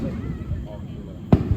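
Fireworks bursting in the night sky during a 4th of July celebration, mostly a low rumbling backdrop with one sharp, louder pop near the end, heard at a distance under faint crowd murmur.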